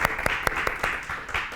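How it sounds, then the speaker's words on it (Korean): Church congregation clapping during a Sunday worship service, a short burst of scattered hand claps with sharp individual hits over a steady wash of applause in the room. "박수 한번 합시다."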